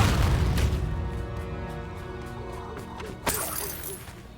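A Confringo explosive curse from Hogwarts Legacy bursts over a loud, dense rumble of combat, with a sharp crack-like blast standing out near the end.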